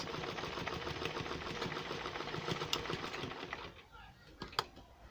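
A sewing machine stitches a nightwear boxer in a steady rapid whir for about four seconds, then stops, leaving faint handling clicks.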